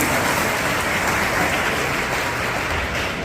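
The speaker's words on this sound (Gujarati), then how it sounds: "આપણે જરીવાલા મેઘરાજને તાળીઓથી વધાવી દઈશું" Sustained audience applause at a school flag-hoisting event under the L&T Hazira Vidya Sankalp project, a dense, steady wash of clapping filling the whole stretch without pause.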